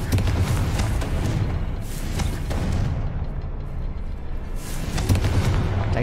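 Fiery Confringo spell blasts in Hogwarts Legacy, heavy booming explosions with rumbling low end repeating across the stretch, loud and close, a voice briefly present.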